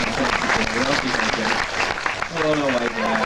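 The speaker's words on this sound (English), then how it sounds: "This is a bit more clapping." Crowd clapping at a lively event, with dense, steady applause filling the whole stretch and voices or music tones running underneath.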